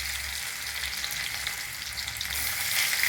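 Garlic, onion and green chilli fry in a pan over a medium gas flame for a Bengali spinach and chana dal, giving a steady, close, even sizzle throughout with no talking.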